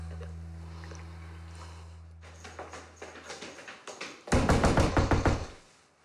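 Knocking on a door in a Turkish TV drama scene: after a steady low hum, light taps build into loud, rapid pounding on the door, close by, with no one talking.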